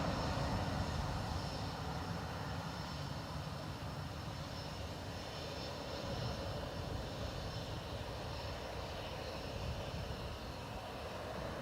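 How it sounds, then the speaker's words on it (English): A Ryanair airliner arriving from Beauvais at Dublin Airport gives a continuous, moderately distant engine rumble and hiss, steady and unbroken for the whole stretch, with no voices. "Ryanair from Beauvais."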